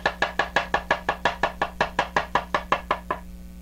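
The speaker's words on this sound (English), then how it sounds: "So that is the absolute safest way to cut a mushroom." A knife slices mushrooms on a cutting board while beef stroganoff is prepared: about fifteen crisp, evenly spaced chops in a brisk steady rhythm, close and distinct, with no talking.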